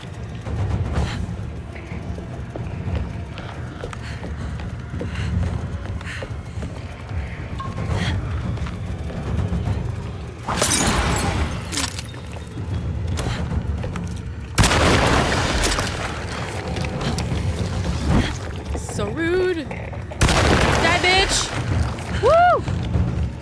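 Heavy booming shotgun blasts from the survival horror game Alone in the Dark, several sharp bursts spaced unevenly over a rumbling game soundtrack with occasional creature noises.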